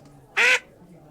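A person imitates a duck with one short, loud, nasal quack, heard alone between quiet pauses.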